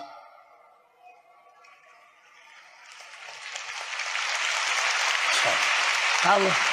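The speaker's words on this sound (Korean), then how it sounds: "그런 가정이 되겠다는 박수를 감사합니다." At a large religious rally in a convention hall, applause starts faintly after a quiet moment and swells into a dense, sustained ovation that fills the hall.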